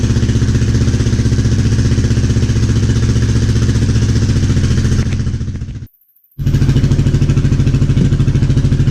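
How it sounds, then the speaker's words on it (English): A Kymco Xciting 500 scooter, a non-running project machine, runs with a steady, loud engine drone that dips into a brief cutout before picking back up at the same even pace. "It actually is running. Well, this is definitely good news. The bike starts."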